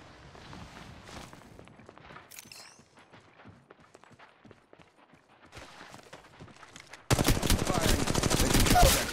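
Rapid automatic gunfire in the mobile battle royale Apex Legends Mobile, building from scattered shots into a loud, sustained burst of fire in the final seconds, with footstep-like clatter beneath.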